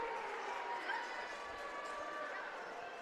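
Crowd at a Wayne at Northrop boys high school basketball game reacting to a foul with booing, a steady broad roar of many voices filling the gym for a few seconds, with a commentator talking over it.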